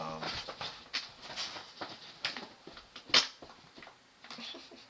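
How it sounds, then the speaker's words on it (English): A dog moves around and scrabbles, trying to jump onto a bed, with soft thumps and scuffling in a quiet room and one sharper knock near the middle. "my dog is trying to jump on the bed"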